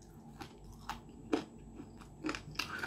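Crunchy bites and chewing of an air-fried chicken bone snack, with several separate crisp crunches spaced irregularly over a quiet background, close and moderately loud, no talking.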